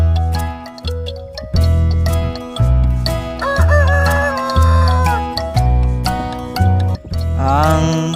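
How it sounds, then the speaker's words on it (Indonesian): A rooster crows and chickens cluck in a strongly rhythmic, loud sequence over a repeating low beat, with the calls bright, close and melodic, suggesting a musical arrangement of poultry sounds. "ayam"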